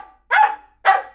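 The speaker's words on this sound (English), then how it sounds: "His barks got shriller and shriller." A dog barks twice, two sharp, shrill barks close by and alone, about half a second apart.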